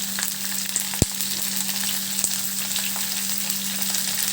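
Chopped ivy gourd and onions fry in a pan for a curry, with a steady, fairly loud sizzle, one sharp knock near the start and a faint hum underneath, with no talking.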